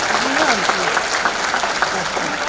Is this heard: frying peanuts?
no